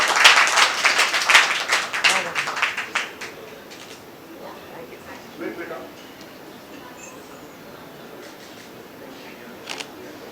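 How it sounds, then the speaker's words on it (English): Applause breaks out at a book launch, a loud burst of clapping hands that quickly thins into scattered claps and fades, with soft clicks and low murmuring in the quieter room afterward. "Can I have a round of applause, please?"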